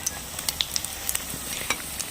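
Cauliflower pakoras sizzle steadily in oil over low heat, a close, continuous bubbling crackle with small irregular pops scattered throughout.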